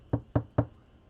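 Three quick, evenly spaced knocks on a door, close and dull, with quiet between them.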